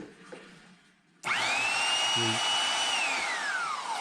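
A newly repaired electric drill switches on abruptly and runs loudly and steadily, its motor pitch sagging slightly near the end, with no talk over it.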